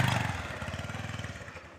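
A motorcycle engine runs close by, its low, rapid pulsing idle loud and steady, slowing slightly toward the end.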